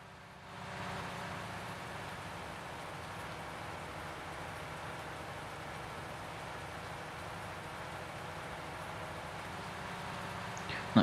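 Rain falls outside during a UK downpour, a steady, soft wash of noise heard from indoors, faint and even throughout with no talking.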